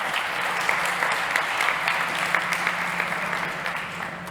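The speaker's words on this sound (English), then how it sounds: "One more time, a big round of applause for Enrique Costa from Virtual Zone." Steady audience applause at a startup pitch competition event, a dense wash of many hands clapping at moderate level throughout, with no talk over it.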